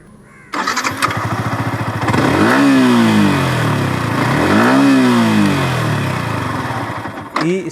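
A Yamaha YZF-R15 V4 motorcycle starts close by with a loud crank and catch, then settles into a steady idle broken by two rising and falling revs.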